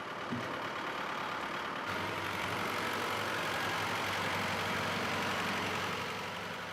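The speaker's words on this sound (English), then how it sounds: "the engine seems to be ticking over fine" Old vehicle engine idling steadily at a chateau, a continuous low rumble with a constant drone, close and even in level throughout with no speech.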